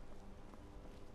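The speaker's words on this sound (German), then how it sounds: "Da ist ein Pferd." Horse hooves in the video game Skyrim clop along in a quick, even rhythm, faint and somewhat distant, as a short run of steps with no talk over them.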